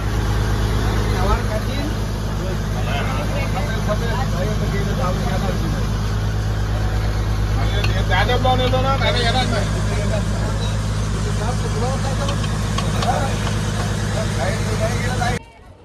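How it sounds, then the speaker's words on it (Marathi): A boat engine runs steadily as the boat pulls away from the Manori Koliwada jetty, a loud, continuous low mechanical drone with people talking over it throughout, cutting off abruptly at the end. "आता ही बोट पुन्हा चाललेली आहे."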